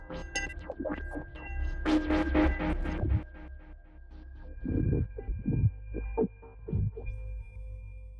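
A synthesizer ambient pad swells with deep throbbing low tones and shifting tonal textures, moody and sustained, with no voices.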